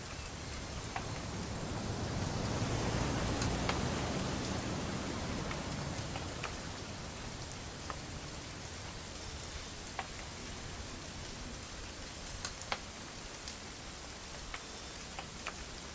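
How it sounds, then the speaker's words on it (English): Steady rain hisses continuously in the game What Remains of Edith Finch, a dense broadband wash with scattered droplet ticks, heaviest early on and then settling into an even patter. "It's gonna rain the whole weekend,"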